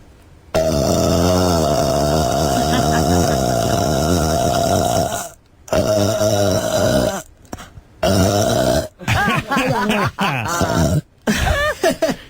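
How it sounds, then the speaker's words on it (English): A woman belches loudly and at length, one long drawn-out burp followed by several shorter, choppy ones separated by brief silences. "Would you say you're done, or you want one last belch"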